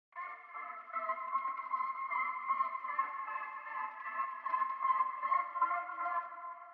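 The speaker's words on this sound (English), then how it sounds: "And also the same synth pad from the verse," A pitched-up synth pad holds a bright, layered chord that swells in quickly and sustains evenly with a slight wavering shimmer, playing alone.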